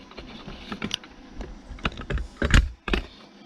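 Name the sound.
calipers being handled to measure cartridge length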